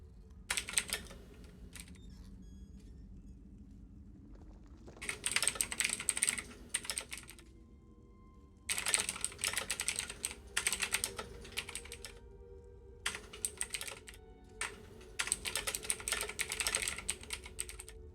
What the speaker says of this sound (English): Typing at a friend, sorry.